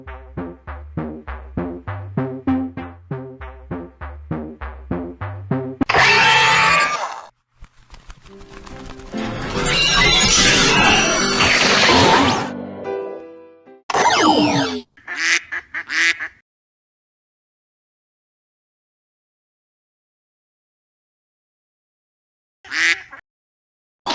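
A Kamen Rider Royal Anati driver toy plays its duck-themed transformation effects: a rapid run of rhythmic electronic tones, then loud, noisy bursts and a few short blips before silence, with a last brief chirp near the end.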